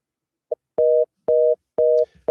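Phone tones while dialing a spoofed scammer caller-ID number: a short blip, then three long steady dual-pitch tones with brief gaps, clear and alone with no talking.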